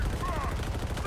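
Rapid pistol fire in the shooter game Halo Infinite, a quick burst of shots layered over dense game noise.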